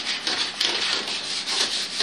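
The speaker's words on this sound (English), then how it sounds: "And you probably will want to use a little sanding block and sand along the ends of the frets on a slight angle here." Sandpaper on a sanding block rubbing along the wooden neck and fret ends of a banjo, a close, steady rasping with repeated back-and-forth strokes and no voices.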